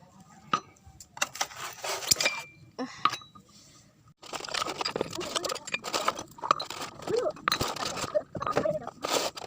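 Old drinking glasses brought back from Arabia clink and rattle as they are sorted while cleaning a village shop, with irregular bright taps and knocks close by and someone talking throughout.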